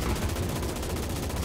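Aircraft strafing gunfire in the video game Enlisted, a dense, loud, continuous rattle of rapid shots with heavy low rumble, filling the whole moment without any talk.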